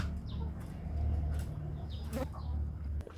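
A free-roaming native chicken clucks softly a few times near a farmyard at morning, short bursts over a low steady background rumble.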